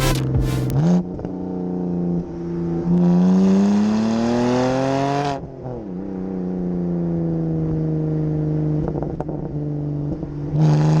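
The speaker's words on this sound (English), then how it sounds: "let's jump in it, see what that sort of lightweight, smaller chassis is like with that 3-litre engine." Engine of a 2005 BMW 130i with a 3-litre six revving up through the gears, a loud, close rising drone with audible shifts and a dip midway before it pulls again, no talk.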